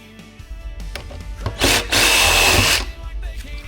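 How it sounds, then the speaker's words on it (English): A power drill whirs loudly for about a second, drilling a hole in rigid plastic, with a brief start and stop, over a noisy workshop background. "we're going to drill a hole"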